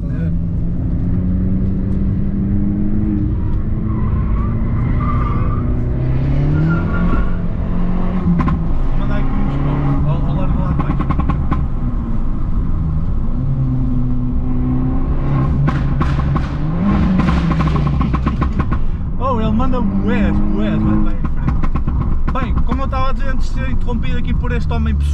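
An Abarth 595 Pista with 220 hp is driven hard, its engine revving up and down repeatedly and loudly close by, with people talking over it throughout.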